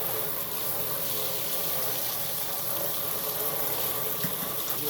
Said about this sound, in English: I take my sprayer and I rinse all of that pulp of flesh. I rinse it out of the strainer.